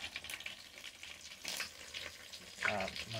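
Tilapia fries in a pan with a close, continuous sizzle and crackle, rising in a few louder bursts of spatter and ending in a brief louder stretch with a short vocal sound.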